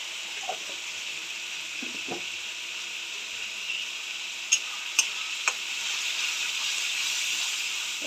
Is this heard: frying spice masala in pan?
yes